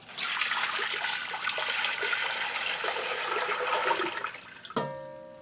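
Water gushes from a tap for about four seconds, steady and close, then cuts off with a short clink and fading drip.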